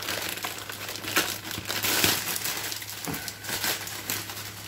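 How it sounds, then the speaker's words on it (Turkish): The plastic packaging bag of a wall-mounted phone holder is torn open and crinkled close up, a continuous rustling and crackling with a few sharper pulls. "Poşetini yırttık."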